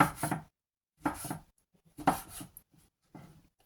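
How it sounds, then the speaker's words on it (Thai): Knife chopping sweet honeycomb mushrooms on a board for a clear Thai curry, in four close, crisp bursts of quick cuts separated by short pauses. "ก็จะหั่น หั่นเป็นสอง ถ้าดอกใหญ่ก็จะหั่นเป็น"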